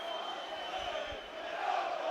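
Football crowd at a Blackpool v Wrexham match reacting to a corner decision, a broad distant roar of voices swelling slightly toward the end, with a brief low thump midway.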